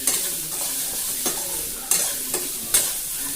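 Onions sautéing for onion chutney, a steady sizzle in a pan with a few sharp scraping stirs of a spatula, close and alone.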